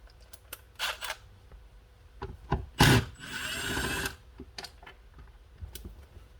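Range Rover headliner bolts being worked loose with a T30 Torx driver, giving scattered mechanical clicks and taps, with one louder burst of grinding, rattling tool noise near the middle.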